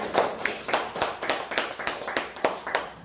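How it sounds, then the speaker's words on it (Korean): Audience clapping at a Korean church ordination ceremony for a new pastor, with rhythmic, evenly spaced claps in a steady, moderately loud beat, heard alone without talk. "박수 쳐주시기 바랍니다."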